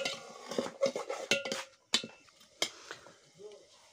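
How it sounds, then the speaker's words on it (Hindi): Boiled bharta being stirred with onions in a pot, a string of sharp clanks and scrapes of a metal spoon against the pot, irregular and close. "प्याज के साथ मिक्स किया जा रहा है।"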